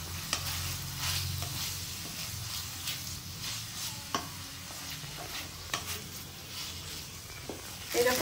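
Chicken and a little onion fry in a pan for a chicken bharta, producing a soft, continuous sizzle with periodic spatula scrapes and clicks, fairly quiet, with faint voices at moments.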